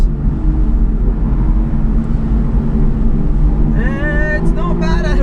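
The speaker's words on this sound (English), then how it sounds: "This V12 sounds unreal." Aston Martin V12 heard from inside the cabin as a loud, constant low drone, with a rising tonal sweep near the end.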